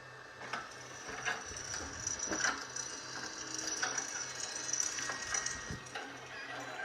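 A faulty cooling fan on a Traxxas RC car makes a rough, repetitive mechanical rattle and ticking, like a grinding ratchet, heard up close and fairly faint in a rhythmic pattern throughout.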